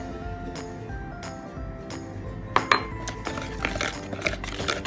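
Brownie batter being stirred in a bowl, with a steady scraping swirl broken by scattered clinks of a utensil against the bowl, growing busier and louder toward the end.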